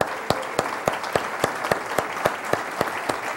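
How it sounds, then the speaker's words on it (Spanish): A church congregation applauds at a worship service, rhythmic unison clapping in a steady beat of sharp claps roughly three per second over a soft crowd murmur. "Más fuerte el aplauso al Señor."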